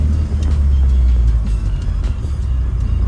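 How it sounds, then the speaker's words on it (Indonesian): A 1991 BMW E30 being driven in second gear, a loud steady engine and road rumble heard from inside the car with no talking. "Kita tes gigi duanya."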